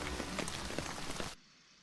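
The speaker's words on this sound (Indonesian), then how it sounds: "Menikmati suara hujan di dalam tenda adalah suatu keistimewaan tersendiri." Rain patters steadily on a tent during a solo hike in Lembah Ramma, a dense, even hiss of drops that cuts off abruptly near the end, leaving faint background.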